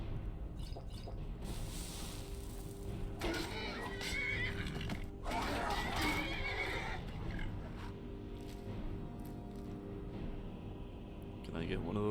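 Horse neighing in the Skyrim video game, a couple of whinnies rising out of game sounds and background music, with someone talking over parts of it.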